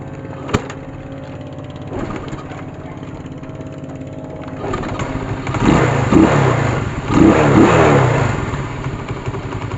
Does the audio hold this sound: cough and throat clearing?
no